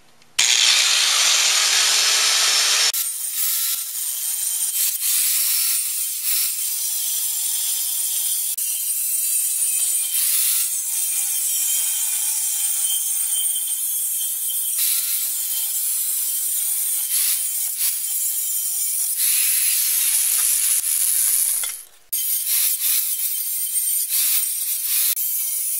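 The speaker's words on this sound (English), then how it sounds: "So I'm just going to use a cutting wheel to do it." A cutting wheel slicing through a metal part for a single turbo setup: a loud, steady high-pitched grinding whine that holds for over twenty seconds, with a short pause at the start and a brief drop near the end.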